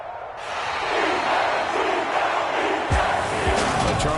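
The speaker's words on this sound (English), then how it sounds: "And the home crowd applauding." A home crowd in a Madden football video game roars and applauds in a sustained wash of noise. A few sharper hits and thumps rise over it toward the end.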